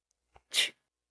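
A single loud sneeze bursts out after a short intake of breath, close and sharp, with silence around it.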